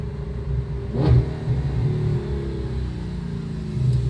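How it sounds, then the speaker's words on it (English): A supercar engine revs during a downshift, heard as a steady mid-pitched engine drone with a sharp blip around the second mark and a second brief swell near the end, loud and without talk. "oh, that downshift"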